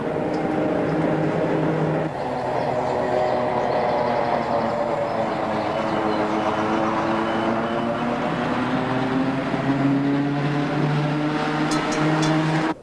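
An old tram rumbles and rattles continuously, its metallic clatter and wheel squeal rising and falling with bumps along the track.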